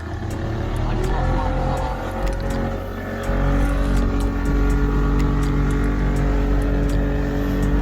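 Motorboat engine on Tauranga Harbour droning steadily then rising in pitch and loudness as it accelerates, close, with people talking over it.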